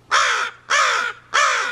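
Three loud, harsh crow caws in an even rhythm, close by and clear against a quiet background.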